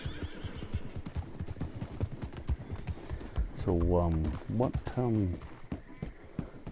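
A wild horse in the Red Dead Online video game whinnies twice loudly over a busy run of clip-clopping hooves, with a player talking over it.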